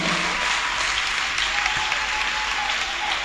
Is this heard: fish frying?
no